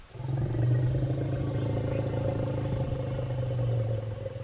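A wild female elephant in Assam, out near a mud wallow, gives a long, low rumbling call that holds steady for several seconds, loud and close with no talking.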